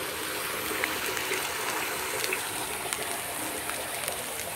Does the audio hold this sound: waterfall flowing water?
yes